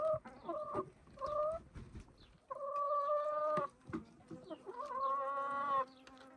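Several chickens cluck and squawk close by, with drawn-out tonal calls and short sharp clucks in an uneven rhythm.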